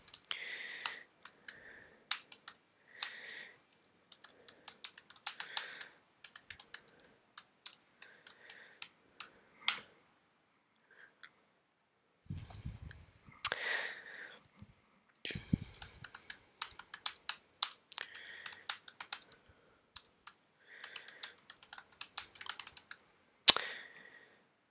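Someone types on a computer keyboard into a text editor box while creating a discussion topic. Short bursts of quick, crisp key clicks come close up, separated by silent pauses, with one sharper tap near the end.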